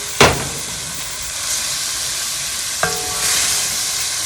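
A whole can of vegetables stirred in a hot pan, a loud burst of steam and sizzle with two sharp clanks from the utensil against the pan, the hiss swelling toward the end.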